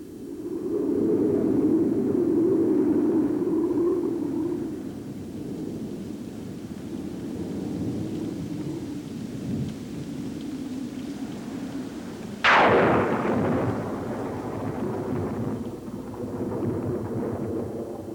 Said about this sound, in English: a summer thunderstorm.